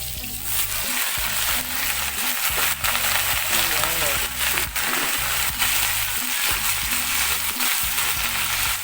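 Chopped garlic fries in a shallow layer of oil in a pan, giving a loud, steady crackling sizzle with faint stirring scrapes. A voice is briefly heard.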